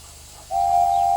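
A single long steam whistle from the animated engines Gordon, James and Henry waiting at a station, starting abruptly halfway through and holding a loud, steady tone to the end over a faint hiss.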